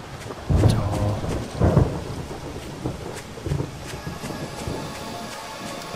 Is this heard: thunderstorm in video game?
yes